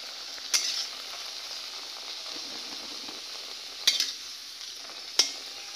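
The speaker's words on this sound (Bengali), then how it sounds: "খুবই আস্তে আস্তে, মানে লো ফ্লেমে ভাজতে হবে" A pea and flour snack fries gently over a low flame, a quiet steady sizzle broken by three sharp clinks of a spatula against the pan, with no talk.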